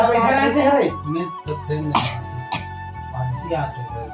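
A person coughs hard and clears their throat during a family video shoot, several harsh close bursts spread unevenly across the moment.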